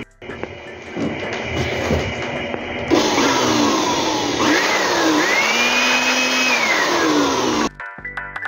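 A loud, steady blast from an air blower drying the waste ink pads of an Epson L3210 printer roars close by, its pitch shifting slightly as the stream moves, then cuts off abruptly near the end.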